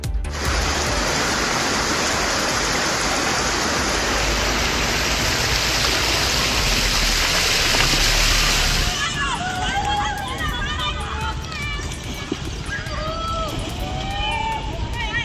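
Heavy monsoon rain and rushing floodwater surround houses in Surendranagar district, Gujarat, a loud dense roar of pouring water that drops away midway, leaving weaker water noise under distant voices.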